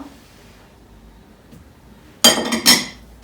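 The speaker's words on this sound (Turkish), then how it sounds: "Bütün malzemeyi karıştırma kabıma atıyorum." Flour, butter, powdered sugar and an egg yolk for cookie dough go into a mixing bowl: after a quiet stretch, two sharp clinking knocks of utensil and bowl ring out close by.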